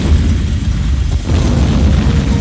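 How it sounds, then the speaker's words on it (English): Distant explosions form a loud, continuous low rumble, like heavy booming rolling in from far away and heard as a sound effect in an audiobook. The roar is dense and unbroken, with no distinct individual blasts. "Somewhere behind them they heard explosions."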